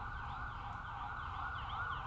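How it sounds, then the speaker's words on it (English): A distant siren wails with a rising and falling tone over a low rumble of road traffic. "Oh, no. Ambulance."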